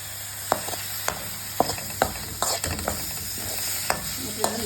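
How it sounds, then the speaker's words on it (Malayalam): Chopped tomato and curry leaves frying in a pan for rasam, with a steady low sizzle under a string of sharp clicks and taps from a spoon stirring, close by. "ഒരു 1/2 തക്കാളി അരിഞ്ഞതും കുറച്ച് വേപ്പില ഇട്ട് കൊടുക്കാം"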